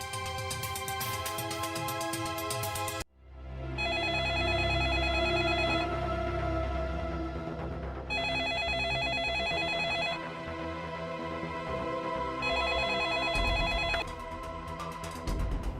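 A telephone rings late at night in repeated tonal bursts separated by short gaps, fairly loud against a dramatic musical background, with no talking.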